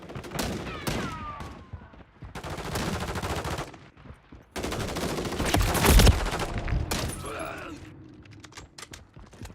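Bursts of rapid gunfire and single shots in the Call of Duty Modern Warfare 3 video game, coming in several loud clusters with mechanical clicks between them and players shouting over the action.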